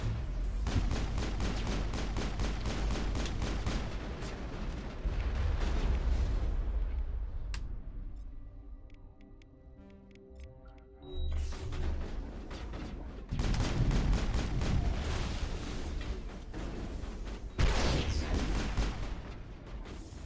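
Gunfire and blasts in a Mass Effect firefight, dense bursts of shots for several seconds, a quieter lull with droning tones, then loud volleys resuming.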